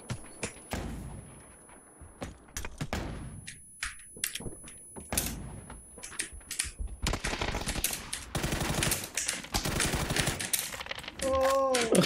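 Gunfire in the video game PUBG, with scattered single shots followed by sustained rapid automatic bursts, sharp and close, while a player talks over the action.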